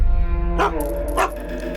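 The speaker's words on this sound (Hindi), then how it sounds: "भौंक क्यों रहे हो?" In a Hindi-dubbed action film, a dog gives two separate loud barks over a steady low musical background score.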